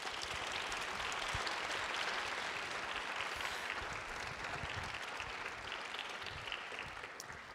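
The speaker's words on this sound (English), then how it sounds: "Everybody, big round of applause for our panel." A conference audience applauds a sports and community panel, a broad, steady wash of clapping that carries on for several seconds at a fairly low level before beginning to thin out, with no talking over it.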